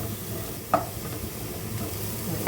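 A vegetable cutlet mixture of mashed potato and oats bread fries in a pan, giving a soft, steady sizzle with a single sharp clack of the stirring utensil partway through.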